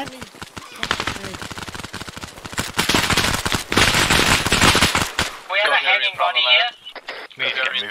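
Video game gunfire from Arma 3: dense rapid bursts of automatic fire, close and loud for several seconds, then the shooting stops and excited voices talk over a quieter background.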